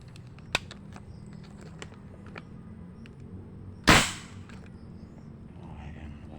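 A homemade PCP air rifle fires one loud, sharp crack with a brief decaying tail, preceded by a few small clicks of handling against quiet outdoor background.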